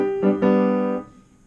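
Piano plays a short syncopated phrase, a few bright sustained chords struck in quick succession that ring out and decay, heard close and alone.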